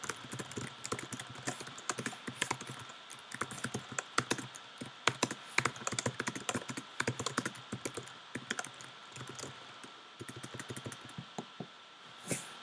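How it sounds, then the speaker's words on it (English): Fast, uneven tapping of keys on a computer keyboard, close and fairly quiet, continuing in bursts throughout with no talking. "I was just typing."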